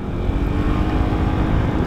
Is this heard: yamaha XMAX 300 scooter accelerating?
yes